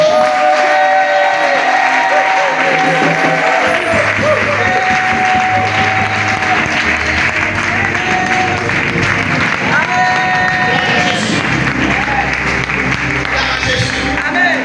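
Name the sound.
congregation applauding and acclaiming in church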